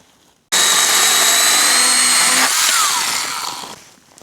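Battery-powered saw cutting firewood logs in half outdoors in winter cold, a loud steady motor whine that starts abruptly, holds for about three seconds with a pitch shift midway as the blade bites, then winds down.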